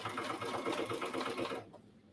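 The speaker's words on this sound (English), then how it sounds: "so that I can sew around" A sewing machine stitches around the corners of a cross body bag in a quick, even rapid chatter, close and steady for about a second and a half before stopping.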